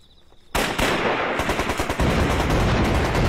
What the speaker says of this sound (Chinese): 不知道哪儿传来的枪声